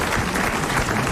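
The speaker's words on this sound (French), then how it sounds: "vous allez applaudir Madame Fontaine de Templeuve dans" Steady applause from a French television studio audience in 1982, a dense wash of many hands clapping at an even loudness throughout.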